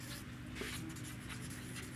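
Marker or chalk strokes on a classroom board make a faint, continuous scratchy rubbing, heard at a low level with no gaps.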